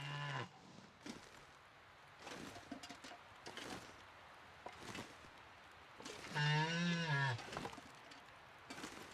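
A moose in The Long Dark snowy wilderness survival game lets out repeated low, drawn-out bellowing calls, several separate moans spaced across the stretch with one longer, louder wavering cry near the end, fairly close and with no talking.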